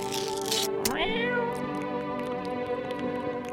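A cat in the video game No, I'm Not A Human gives one long, rising, drawn-out meow up close, then fades into quiet ambient game sound with faint ticks.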